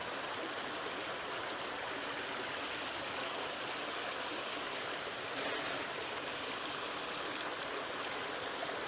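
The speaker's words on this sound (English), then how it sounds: "We've got 7 small waterfalls there, but it's very pretty looking up the falls" Small waterfalls in a garden, a continuous soft rush and splash of falling water, steady and unbroken, heard alone at moderate distance.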